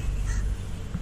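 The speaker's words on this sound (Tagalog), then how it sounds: "Yung ito, uwak na to ha." A crow caws near a pier in Singapore, one harsh call rising over a low outdoor rumble of wind or distant traffic, fairly close and clear, with no talk.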